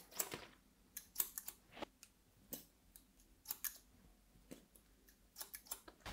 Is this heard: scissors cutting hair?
yes